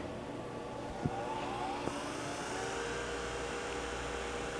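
An ID grinding machine with its external wheel shut off starts up in a workshop, giving a steady mechanical whir with a couple of sharp clicks early on, moderately quiet and continuous.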